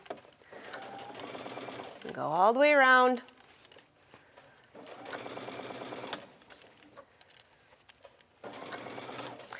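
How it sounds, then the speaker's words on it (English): A sewing machine runs in bursts of rapid mechanical stitching, with a person speaking briefly between runs. "if you have a speed button on your sewing machine"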